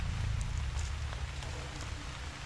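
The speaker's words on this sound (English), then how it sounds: "this kind of weather. You know, downpour, rain, lightning," Heavy downpour in the Haunted Memories horror game, a dense, steady hiss of rain on surfaces with scattered droplet ticks, continuous throughout.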